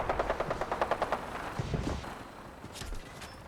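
Rapid gunfire crackles in a Fallout video game as a quick run of close shots, then tails off into scattered fainter pops and a lingering rumble.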